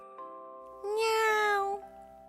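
A cat meows once in a children's audio story, a single clear, drawn-out call over soft background music.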